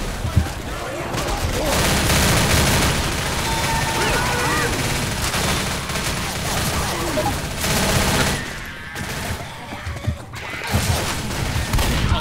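Dense gunfire from the video game Left 4 Dead, a steady barrage of shots mixed with game noise and crashes, with people talking over it throughout.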